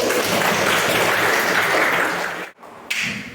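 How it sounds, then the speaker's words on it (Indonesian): Classroom of students applauding after group presentations, a dense, loud wash of clapping that cuts off sharply near the end before a brief resumption. "Kita beri tepuk tangan dulu."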